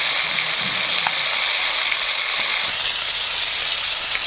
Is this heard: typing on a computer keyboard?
no